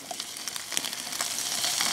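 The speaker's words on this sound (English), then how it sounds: "and they are sizzling." Kielbasa slices hit hot, nearly smoking oil in a pan and sizzle steadily, a bright continuous crackle with small pops, moderately loud and close, with no talk over it.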